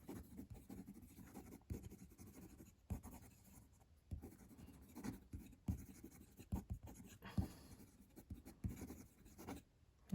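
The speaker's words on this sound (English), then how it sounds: "Quick writing." Scratchy strokes of a Kaweco Supra fountain pen writing quickly on paper, short irregular bursts with brief pauses, close and fairly quiet with no talking.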